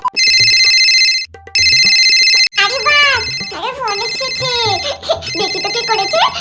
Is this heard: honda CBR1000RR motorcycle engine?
no